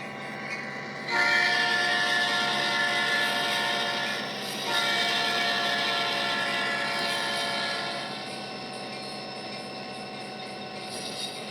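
A freight train hauled by a CF7 locomotive works slowly on a switching track, its engine droning close by while a horn sounds in a long sustained blast, then fades somewhat toward the end.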